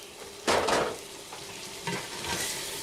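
Flour is stirred into melted butter in a frying pan, giving a loud sizzling scrape followed by gentler sizzling and a few further stirs, close by with no talking.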